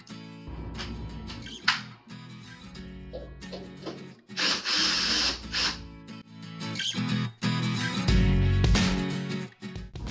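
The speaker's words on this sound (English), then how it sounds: "I'm gonna get my drill gun and pull out those anchors" A drill gun pulls wall anchors out of an office kitchen wall in bursts of close, gritty grinding and whirring, broken up by scraping and short pauses.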